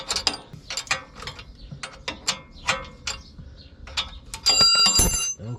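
A ratchet tightening bolts on a car steering knuckle: short bursts of rapid close clicking in an uneven rhythm, ending in a louder, sustained rattling run.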